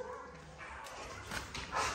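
Female dog barking and yipping, a few short, fairly faint bursts, with the loudest near the end over a low background rumble.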